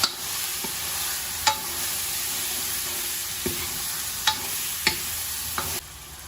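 Chicken curry with garam masala frying in a pan: a steady close sizzle with occasional scraping taps as it is stirred.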